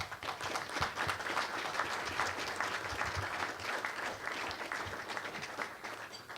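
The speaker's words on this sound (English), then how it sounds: "he deserves a round of applause" An audience breaks into applause for a priest, Father Mac, a steady wash of many hands clapping at moderate distance, sustained for several seconds without pause.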